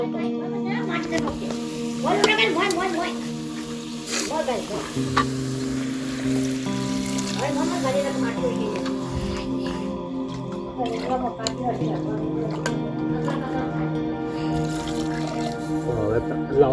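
Steady sizzling and frying as water is poured into a hot pan, with scattered drips and stirring clatter, while people talk on and off throughout.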